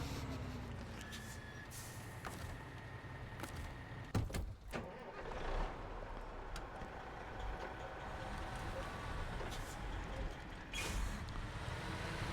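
A truck engine driving in the SnowRunner video game, with a steady low mechanical drone and rumble and a few brief knocks and hisses, moderately loud and continuous.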